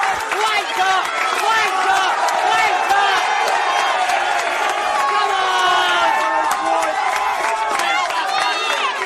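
Football crowd at a National Premier League match between South Hobart and Kingborough Lions, cheering and shouting in a sustained roar after a goal, with some clapping and voices mixed in.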